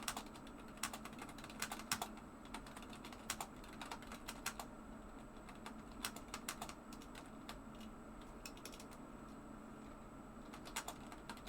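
Quiet, close keystrokes on a computer keyboard come in irregular bursts and pauses as someone types a message, with a faint steady room hum underneath.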